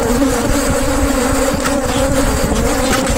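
Dense, steady buzzing of many bees swarming around an opened beehive while comb frames holding honey are handled, continuous and close with no talk.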